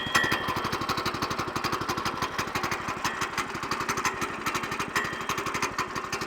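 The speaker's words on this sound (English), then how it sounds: "I want to start the engine." The small engine of a Woodland Mills HM122 portable sawmill chugs and runs with a rapid, regular pulsing beat, steady and fairly close, with no talking over it.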